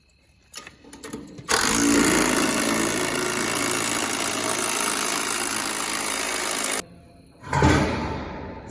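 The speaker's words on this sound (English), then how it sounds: "So this is the auger." A grain auger on a farm bin runs with a loud steady mechanical whir and rattle for about five seconds, then cuts off abruptly; short clanks come before it and a brief motor surge follows.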